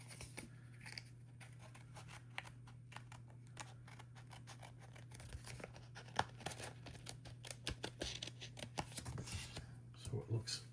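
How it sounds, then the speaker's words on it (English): Scissors trim the excess edge off a decorated postcard in quick, close, crisp snips that pick up in pace toward the end, with faint room hum beneath. "We'll trim off all the extra."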